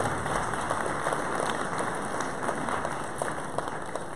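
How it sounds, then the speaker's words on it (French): Steady applause from a small crowd at a town New Year's greetings ceremony fills the clip, a continuous patter of hands clapping at moderate volume. "On peut les applaudir, hein, quand même."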